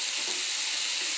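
Tomato frying in a pan with onions, cumin and ginger garlic paste, a steady close sizzle of hot oil that carries on unbroken.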